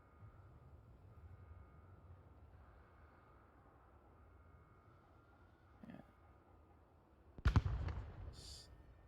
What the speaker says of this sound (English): Flashbang goes out, will not find purchase.